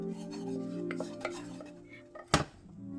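Butter and flour stirred in a saucepan, with soft scraping and a few light clinks of a utensil against the pan over a low hum, ending with one sharper knock.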